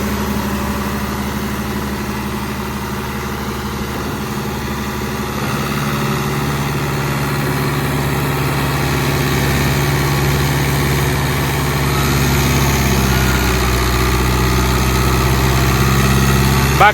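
A brand-new New Holland Alghazi 640, a 75 hp tractor, idles steadily at close range, its low engine drone and vibration holding constant and swelling slightly toward the end, with no talk over it.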